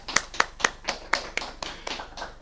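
A handful of people clapping at a university beauty pageant, the claps loose and uneven, moderately close, with no talking over them and the clapping trailing off after a couple of seconds.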